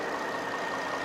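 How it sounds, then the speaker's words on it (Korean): A large used sedan's engine idles in a brief, steady, even hum with a faint knocking texture, close and continuous, with no voices. "엔진 소리 한번 들려드릴게요"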